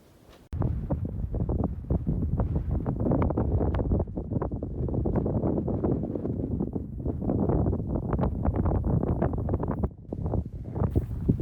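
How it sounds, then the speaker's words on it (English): Heavy wind buffets the microphone in loud, continuous gusts, a low rumbling roar with no voices, on a steep climb up Challenger Point in Colorado. "It's really windy."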